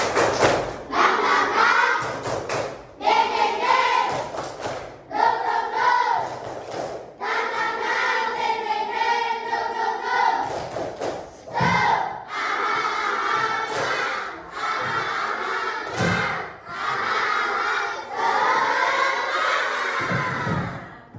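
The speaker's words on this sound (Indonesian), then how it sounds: "yuk kita lakukan tepuk semangat" A class of children performs a rhythmic spirit clap chant in unison, with loud repeated shouted phrases broken up by claps and short pauses.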